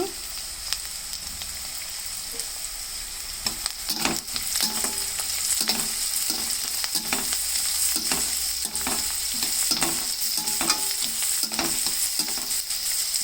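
Soaked chana dal and cabbage fry with turmeric in a pan, a dense steady sizzle under quick, regular scraping stirs of a spatula that pick up pace midway, close and moderately loud.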